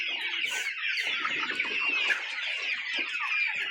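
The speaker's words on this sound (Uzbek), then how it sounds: "Bular Andijon qora jo'jalari." Andijan black chicks about two and a half months old cluck and peep in a dense, continuous chorus, steady and close throughout with no talking.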